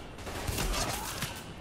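Rapid gunfire in The Division fills the moment, a loud, dense fusillade with a few heavier thumps punching through the continuous noise of shooting.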